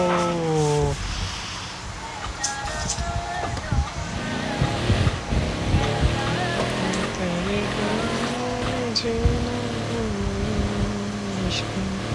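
A car drives along a road while carrying a passenger. A steady engine hum rises and falls in pitch as the car speeds up, heard from inside the car under intermittent talk.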